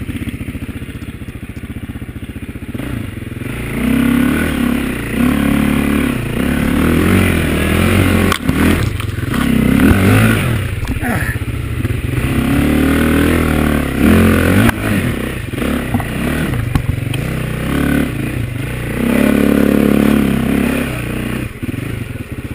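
A dirt bike engine loud and close as it rides over stumps, ruts and roots on a steep trail, revving up and down in surges with clattering thumps and scrapes, no talk.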